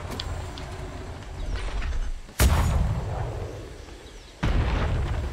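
Two sharp, loud cannon blasts from a video game ring out a couple of seconds apart, each with a booming rumble that fades slowly, over faint background noise.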